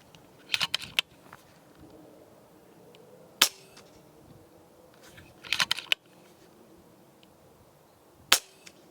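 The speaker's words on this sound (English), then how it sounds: "You will notice I've been shooting it on the bog rest at the front here" Shots from an FX DRS Classic 600 .22 air rifle fired off a rest, as sharp close cracks with a few rapid metallic clicks from cycling the action between shots in a quiet setting.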